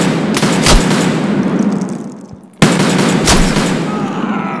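Loud gunfire in the Escape From Tarkov shooter game: sharp shots and short bursts ring out over steady ambient noise, with a brief quiet dip before another close, heavy report.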